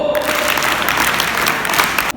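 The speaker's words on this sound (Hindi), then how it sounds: "जोरदार तालियों के साथ" Loud, dense applause from a crowd at a college Independence Day program, steady clapping for about two seconds that cuts off abruptly at the end.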